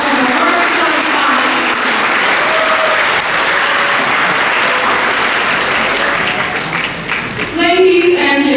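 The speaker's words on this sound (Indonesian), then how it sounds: "mari kita berikan tepuk tangan yang paling meriah" Loud, sustained applause filling a graduation ceremony hall for the graduating participants, a thick continuous wash of clapping that holds for several seconds before a voice cuts in at the end.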